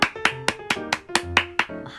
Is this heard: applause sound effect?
yes